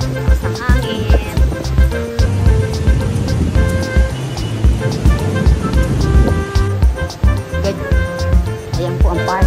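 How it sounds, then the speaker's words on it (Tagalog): Strong wind roars and buffets near a shopping mall parking area, loud and continuous, with traffic and other street noise underneath. "Lakas ng hangin."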